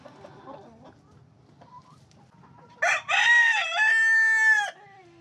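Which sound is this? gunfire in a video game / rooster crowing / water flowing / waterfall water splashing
rooster crowing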